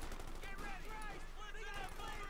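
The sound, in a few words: gunfire from Thompson guns in video game Company of Heroes 2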